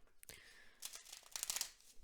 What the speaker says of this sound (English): I'll just shuffle twice and cut.